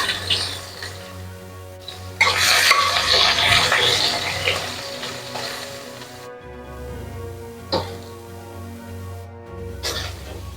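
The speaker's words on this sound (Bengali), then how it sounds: "বেগুনগুলোকে একটু আগে ভেজে নেব" Eggplant pieces fry in hot oil in a pan, giving a broad sizzling hiss that swells, eases off and flares again, with occasional stirring clinks and no talking.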